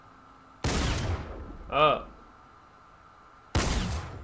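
Two heavy shotgun blasts from a tactical shotgun in a video game, loud and close, spaced about three seconds apart, with a short voiced exclamation between them.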